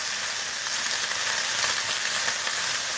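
Chopped cabbage fries in a hot pan with a steady, close sizzle and hiss that holds even throughout, and no one talks over it.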